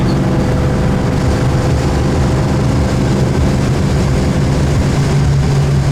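A 1968 Mercury Cougar XR7 engine cruises at highway speed, around 63 mph and 2,500 RPM. Its steady, loud drone and road rumble run without a break and no one talks over it.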